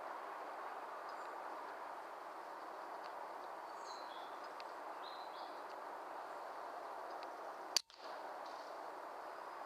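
A single sharp air rifle shot cracks out once in quiet woodland, fired at a grey squirrel, standing alone above steady broadband background hiss with faint birdsong.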